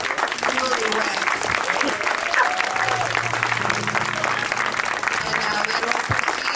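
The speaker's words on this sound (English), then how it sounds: "A big applause for the newlyweds." Wedding guests applaud the newlyweds at an outdoor ceremony, with steady, dense clapping running throughout, a crowd murmur beneath it and a low tonal hum sitting under the claps.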